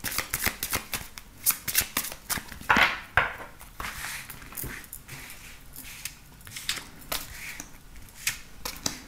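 Tarot cards are shuffled for a card reading, with close, loud, repeated riffling and slapping bursts that run in an uneven rhythm throughout.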